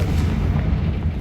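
A Confringo blasting spell explosion: a loud, sustained booming rumble with heavy low-end roar, steady for about a second with no talking.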